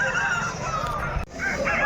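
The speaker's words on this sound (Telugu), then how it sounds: "కలర్ కలర్ మంచి మంచి కోళ్ళు అయితే వచ్చాయి" Chickens and roosters at the Pileru poultry market: overlapping crowing and clucking from several birds close by over a busy background murmur, with a brief dip midway.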